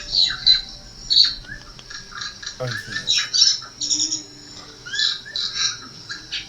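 Bird calls from a TV bird channel, squawking and chirping in repeated bursts through a small room speaker while a cat listens, with a voice speaking briefly over them.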